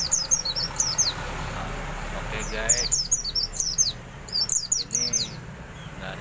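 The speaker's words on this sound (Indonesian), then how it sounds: "Ini burung rumahan" A home-raised pleci white-eye sunning in the morning gives bright, quick bursts of high chirps in several clustered phrases, with a person talking softly underneath.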